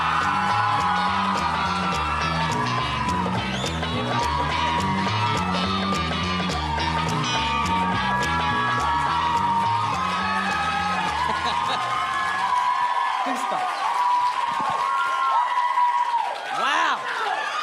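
Comedy club audience applauding and cheering loudly for a stand-up comedian, continuous dense clapping with whoops, easing toward the end as a voice speaks.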